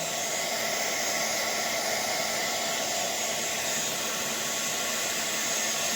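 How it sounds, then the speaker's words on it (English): Heat gun blowing on polymer clay, a steady loud rushing hiss of hot air that holds unchanged throughout. "So I'm going to be starting my heat gun."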